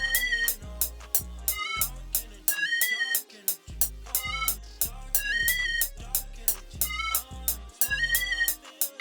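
Recreated synth lead melody plays over a hip-hop beat, bright repeating notes riding steady punchy drums and deep bass hits, loud and continuous with no talking.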